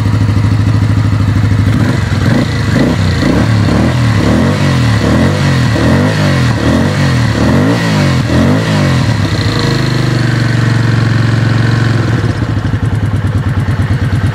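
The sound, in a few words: Kawasaki VN750 motorcycle engine idling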